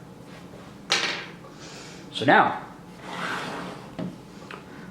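A drawer on a wooden puzzle box scrapes as it slides open, one short rasping movement in the middle, close by, with brief handling knocks before and after and a few words of talk.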